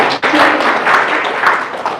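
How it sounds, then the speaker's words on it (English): Audience clapping at a live Kriya Yoga event in Sydney, a dense, steady wash of many hands from a close crowd, beginning just after a short pause and holding loud throughout. "It's okay to clap, go ahead."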